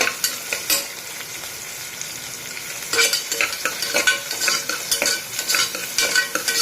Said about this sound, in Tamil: வெங்காயமும் போட்டுக்கலாம். போட்டு நல்லா வதக்கி விடுங்க.